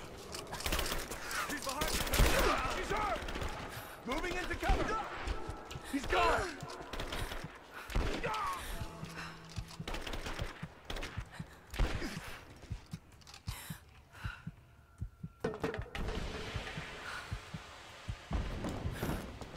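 In the video game Rise of the Tomb Raider, bursts of gunfire and a grenade blast ring out amid combat clatter, with voices shouting intermittently over the fighting.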